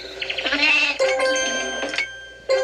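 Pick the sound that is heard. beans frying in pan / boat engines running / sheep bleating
sheep bleating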